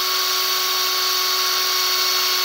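A drill bit bores a hole while a digital clock project is being finished, giving a steady, continuous high-pitched whine that runs unbroken at close range with no talking over it.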